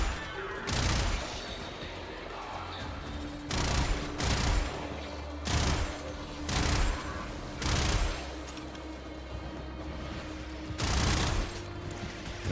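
Gunfire from a weapon in the video game Warframe comes as about six loud bursts of shots at irregular gaps over a low, steady game ambience, with no talking.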